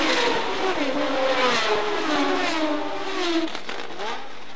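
Formula 1 race cars from 1971 at the start of the Monaco race, their engines revving loudly with rising and falling whines as the field pulls away together.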